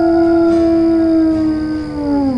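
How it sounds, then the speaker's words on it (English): A wolf howls in the WolfQuest video game, one long, loud, sustained tonal call that holds steady and then slides downward at the end, heard alone without talk. "What if we howl at her?"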